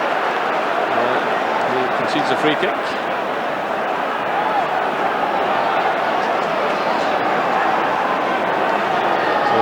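A stadium crowd at a Hearts versus Celtic league football match sends up a constant dense roar, loud and unbroken, with a commentator speaking over it.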